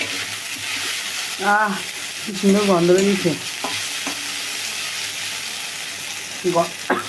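Food fries in a pan with a loud, continuous sizzle and frequent stirring scrapes, while a voice speaks briefly a couple of times over it.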